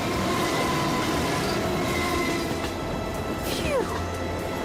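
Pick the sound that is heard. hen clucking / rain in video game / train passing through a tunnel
train passing through a tunnel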